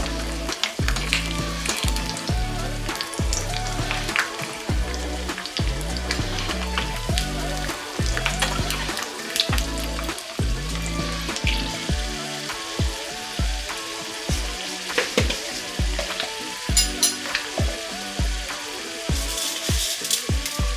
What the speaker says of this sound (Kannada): ಕಡಲೆ ಬೀಜ ಚೆನ್ನಾಗಿ ಹುರ್ಕೋಬೇಕು. ಬ್ರೌನ್ ಕಲರ್ಗೆ ಚೇಂಜ್ ಆಗೋ ತನಕ ಇದನ್ನ ಇದೇ ರೀತಿ ಹುರ್ಕೊಳ್ಬೇಕು.